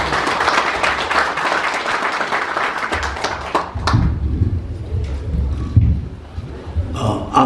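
An audience at a Korean business leaders' conference applauds, a full round of clapping that fades midway as low rumbling, shuffling and scattered voices take over.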